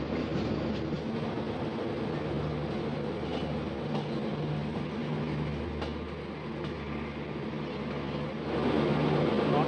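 The Deccan Express pulls into Karjat station with a continuous low rumble of wheels and carriages and scattered clanks, swelling louder toward the end.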